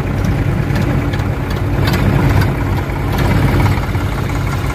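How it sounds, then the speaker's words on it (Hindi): An Eicher tractor's diesel engine rumbles loud and steady with a low, throbbing chug as it draws near while hauling a load of groundnut at a farm, and nobody talks over it. "देखो ये हमारा आइसर आ रहा है"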